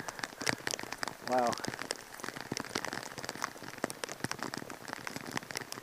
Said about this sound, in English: I don't mind the rain, but I'll be stuck in the lightning.